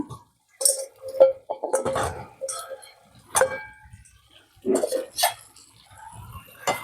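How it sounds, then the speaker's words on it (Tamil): Fried cabbage dropped into a pan while cooking Cabbage Manchurian, several sharp metallic clinks and scrapes of a utensil against the pan, with a person talking in between. "அந்த பொரிச்சு வச்ச கேபேஜ் எடுத்து போட்டுடலாங்க"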